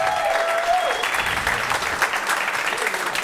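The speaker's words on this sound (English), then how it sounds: "So let's give them a round of applause." An audience at a stand-up comedy show applauds, a dense, sustained wash of clapping with a few cheers mixed in, filling the room at a steady level.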